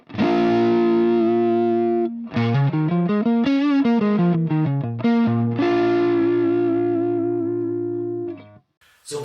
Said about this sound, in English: here's my pure Plexi signal without the fuzz first.